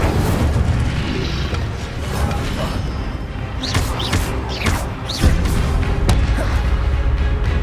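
Spell-casting blasts in the video game Hogwarts Legacy: a dense run of booming magical impacts and bursts over a constant loud game soundscape, with sharp whooshing flares clustered near the middle.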